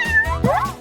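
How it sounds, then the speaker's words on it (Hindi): A pet cat gives a single close, clear meow that rises and falls, preceded by a brief softer mew, loud in an otherwise quiet room. "जेन, मुझे लगता है तुम्हारी बिल्ली मुझसे दोस्ती करना चाहती है।"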